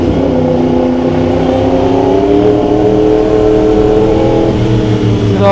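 A Yamaha R1 WGP motorcycle with a remapped ECU pulls in first gear from low RPM, its loud engine note rising smoothly as it accelerates, close and continuous.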